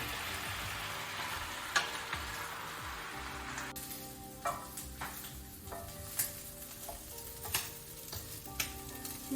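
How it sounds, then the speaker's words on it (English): Beef stir fry browning in a pan sizzles steadily with a bright hiss, and scattered clicks and scrapes of stirring run throughout. No one speaks. "Now all you need to do is let this cook until it's been browned."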